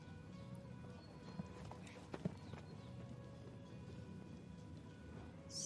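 Horse hooves trotting on the surface of a dressage arena at a para dressage championship, soft steady clip-clop beats at mid distance under continuous low background noise, with a couple of sharper hoof strikes standing out.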